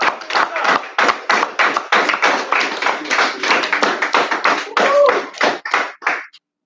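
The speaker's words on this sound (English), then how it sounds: "And we can clap a little bit better." Steady rhythmic handclaps from a church congregation, loud and continuous for several seconds, then breaking into a few looser claps before stopping.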